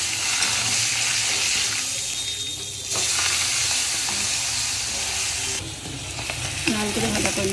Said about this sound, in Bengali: লাল করে ভাজা করে নিচ্ছি